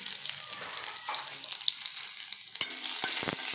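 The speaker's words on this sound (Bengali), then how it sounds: "এই যে নাড়াচাড়া করছি" Ginger and bay leaf stirred in a hot frying pan for shukto, a soft sizzle with light scraping strokes of a spoon and a few sharper clicks near the end.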